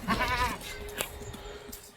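A large dairy goat for sale at a livestock market gives one clear, loud bleat at the start, followed by quieter farmyard background noise.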